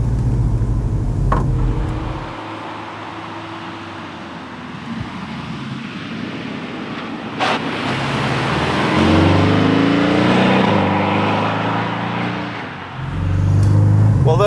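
A 2019 Porsche 718 Boxster GTS runs on the Nordschleife. The engine note is steady and rises into a revving surge late on, mixed with wind and road roar heard from inside the open car.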